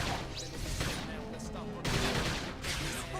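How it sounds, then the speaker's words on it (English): Video game gunfire in Xenoblade Chronicles X forms a dense, continuous stretch of shots and impacts mixed with other battle noise, with voices faintly under it. "We can just topple them with gunfire."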